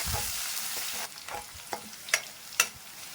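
Green chilies fry in a pan, starting with a loud crackling sizzle that quickly settles to quieter frying. Several sharp scraping stirs sound near the end.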